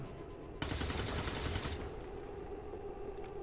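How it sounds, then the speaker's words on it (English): A rapid overwatch burst of gunfire in the XCOM 2 strategy game rattles loudly for about a second, then fades into a low ambient hum with faint scattered clicks. "Please, please land the overwatch shot."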